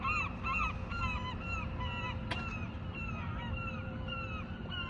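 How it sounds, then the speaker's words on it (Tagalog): Several birds call repeatedly, honking goose-like cries in bursts over a steady background hum, with a sharp knock midway. "Mga huni ng ibon."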